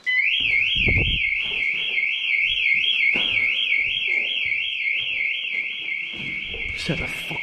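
A loud warbling electronic alarm wails continuously, rising and falling in pitch, with muffled voices and movement underneath.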